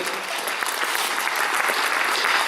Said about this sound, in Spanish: Y aplauso fuerte para esto también.